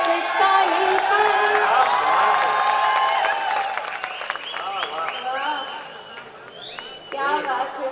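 An audience at a poetry recital (kavi sammelan) in Jhalrapatan claps and cheers loudly with whoops and many excited voices, then the ovation thins and fades before a brief swell near the end.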